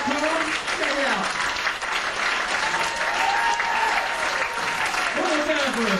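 Sustained audience applause and cheering at a comedy club after a stand-up comedy set, steady and full throughout, with voices in the crowd mixed into the clapping.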